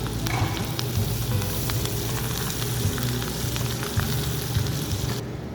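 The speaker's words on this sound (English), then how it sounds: "Going in with the garlic now." Garlic sizzles in a hot pan beside double-cut pork chops, a loud, steady frying hiss with bright crackles and spits running throughout.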